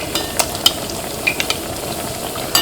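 Potato bread slices frying in oil in a pan, a soft continuous sizzle with scattered sharp clicks and taps from turning the pieces, close by and with no talking.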